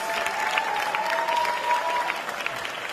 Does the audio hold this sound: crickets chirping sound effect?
no